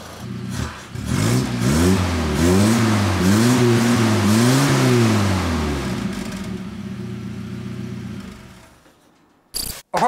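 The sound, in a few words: car engine revving heard from the rear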